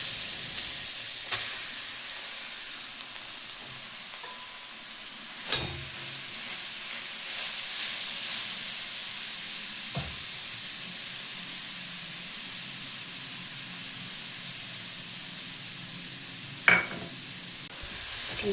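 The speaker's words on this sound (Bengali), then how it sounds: "ঘিয়ের মধ্যে গাজরটা খুব ভালো করে ভাজতে থাকতে হবে" Grated carrot fries in ghee with cardamom, giving a faint, steady sizzle and hiss throughout, broken by a few sharp clicks and clatters of stirring.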